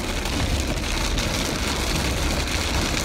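Steady rain pouring down in bad weather, a dense, even hiss filling the whole stretch with no pauses, fairly loud and close, with no voices over it.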